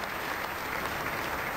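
Crowd at a World Masters bowling match applauding Remy Ong's strikes: a brief burst of steady, dense clapping heard throughout at moderate level.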